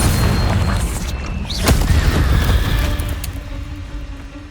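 Confringo spell explosion in the Hogwarts Legacy video game: a loud, booming fiery blast with a sharp crack near the start, then a rumbling roar that slowly fades amid game sound.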